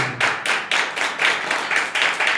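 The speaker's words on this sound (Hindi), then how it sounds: "ताली बजाकर प्रभु के नाम पे" A church congregation at an anniversary service claps in praise, loud rhythmic claps in unison at a quick, steady beat, close and without talk.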